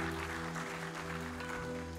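A church congregation at a Sunday service claps in steady, dense applause for Jesus. The broad, continuous patter lasts about two seconds over a low hum.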